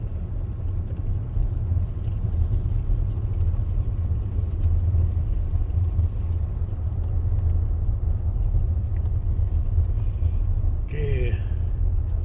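Car driving under the arch in Yellowstone in winter, a steady low engine and road rumble throughout from inside the vehicle, with a brief voice near the end.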